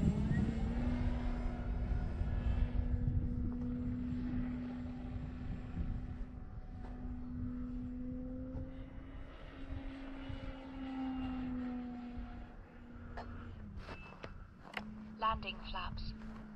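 An E-flite CZ T-28 RC model airplane flies at about three-quarter throttle, its motor holding a steady, loud drone throughout with slight pitch shifts, while someone talks over it.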